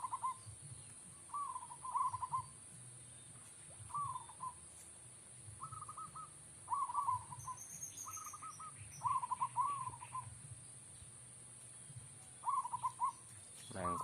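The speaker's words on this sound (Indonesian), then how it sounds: "perkutut lokal" A local Lampung zebra dove (perkutut) in a cage gives repeated soft, rhythmic cooing phrases at a steady pace, with a constant high electronic whine and low background noise behind it.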